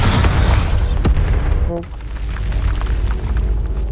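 A Bombarda spell explosion in Hogwarts Legacy, a heavy booming blast with rumbling debris, loud throughout, with a sharp crack partway through.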